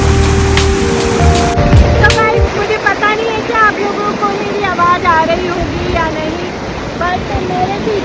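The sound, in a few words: Beas river rushing at a confluence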